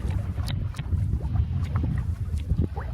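A MacGregor sailboat with full ballast and two adults aboard moves through water under its mainsail, with a continuous low rush of water and wind buffeting the microphone, steady and close with no talking.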